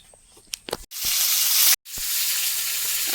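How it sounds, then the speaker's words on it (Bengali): Fish pieces rubbed with salt, turmeric and chilli sizzle loudly as they hit hot oil in a pan, a steady crackling hiss after a few small clatters, with one brief break midway. "এবার মাছ ভাজা হবে।"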